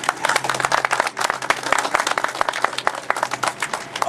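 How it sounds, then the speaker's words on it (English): Audience applause fills a bank branch opening ceremony for Ephrata Bank's first branch in Lebanon, Pennsylvania: dense, steady clapping from a crowd, close and fairly loud throughout. "Another round of applause."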